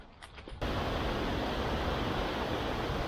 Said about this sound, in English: behind me, if you can actually hear me, is the lower falls